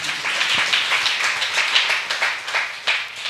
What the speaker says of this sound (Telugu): అరే ఇటు ఒకసారి చప్పట్లు కొట్టండి గట్టిగా.